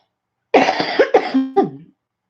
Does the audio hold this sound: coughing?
yes